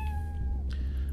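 Cat in the game Cafè Owner Simulator gives a short, clear meow over a low steady hum, with no voices.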